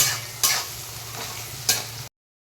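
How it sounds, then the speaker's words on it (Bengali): Onions frying in a pan with turmeric, a steady low sizzle broken by two sharp scraping stirs of the spoon, with no voices. "এবার একটু পেঁয়াজটা ভালো ভালো করে ভাজা করবো"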